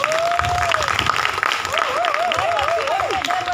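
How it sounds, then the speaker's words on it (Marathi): An audience at a Marathi Diwali music evening breaks into sustained clapping, dense and continuous, while a sung or instrumental melodic line rises and wavers over the applause. "आता दोघांसाठी एकदम टाळ्या वाजवून टाका."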